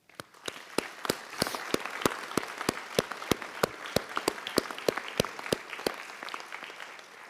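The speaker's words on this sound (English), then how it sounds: "please join me in a round of applause for those people." An audience at a school district Veterans Day celebration applauds steadily, with a dense wash of clapping punctuated by sharp individual claps, moderately distant.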